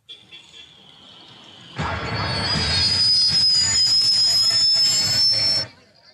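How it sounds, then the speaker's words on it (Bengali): A Howrah Mail passenger train pulls into a station, a loud burst of rumbling wheels and squealing rails with a sustained high whistle-like screech, starting abruptly and cutting off after about four seconds, following a quieter tone. "হাওড়া মেল এসে গেছে?"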